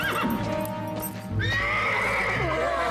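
A cartoon horse gives a loud, close whinny that rises and trails off, with a brief scuffle of hooves and effects partway through.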